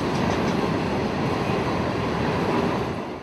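A CSX freight train, Q613, meets Amtrak's Silver Meteor in Folkston, a dense continuous rumble and rolling wheel roar, near and steady, easing slightly at the end.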